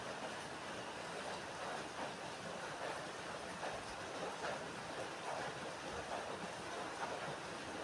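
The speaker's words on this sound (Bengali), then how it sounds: "এবার জল দিয়ে দেব।" Water poured into a cooking pot of browned, sautéed curry base, a steady broadband rushing splash that runs continuously throughout, close and fairly even with no voices.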